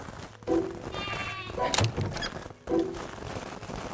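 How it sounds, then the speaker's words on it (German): Sheep in the video game Craftopia bleat several times amid other game sounds, including a soft thunk, and a voice talks faintly in the background. "die Schafe haben sich wieder versammelt in dem einen Ding da drinne"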